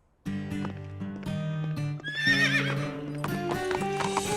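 Cartoon horse whinnies loudly with a wavering neigh while steady hooves clip-clop throughout, backed by continuous music and no talking.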